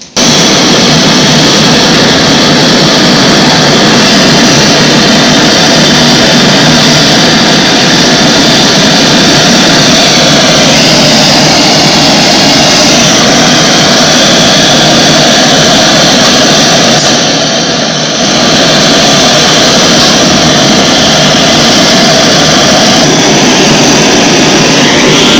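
A geared wire drawing machine pulls wire for bandhel binding wire, making a loud, steady industrial drone that runs without a break for the whole stretch, with a brief dip near the end and no talk.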